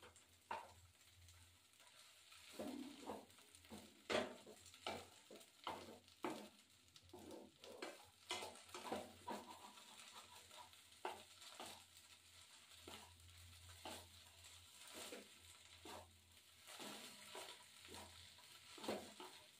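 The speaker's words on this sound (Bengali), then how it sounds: "এই যে ভাজা ভাজা হচ্ছে" Frying food sizzles in a pan, punctuated by repeated stirring and scraping clatters at an uneven pace, fairly close and moderately loud.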